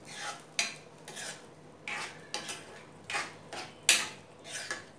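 Whole green moong dal stirred in a pot, a series of about eight scraping, rattling strokes spaced irregularly, close and moderately loud, with no one speaking.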